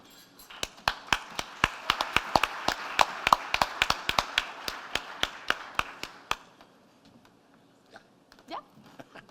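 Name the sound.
gala audience practicing applause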